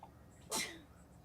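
A single sharp sneeze bursts out mid-clip, loud and close, over faint background hum.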